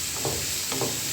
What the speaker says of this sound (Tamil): சேர்த்துட்டு நல்லா அந்த நெய்யிலேயே நம்ம வறுத்து எடுத்துக்கலாம்.